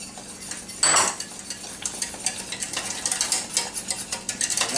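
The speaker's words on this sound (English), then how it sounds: "So we add those in there and just stir that around." A spoon scrapes and clinks around a pot as mustard, paprika, cayenne and Worcestershire are stirred into a Welsh rarebit sauce base, with a sharp metallic knock at the start, then quick repeated scraping strokes, close up with a faint sizzle underneath.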